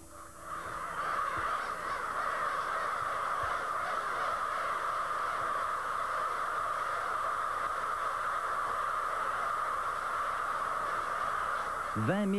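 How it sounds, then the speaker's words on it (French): A large flock of crows caws continuously while returning at dusk to a winter night roost in an industrial park beside a small town centre, a dense, steady chorus of overlapping calls filling the whole stretch. "Corneilles regagnent leur quartier de nuit dans le parc industriel, juste à côté du centre-ville."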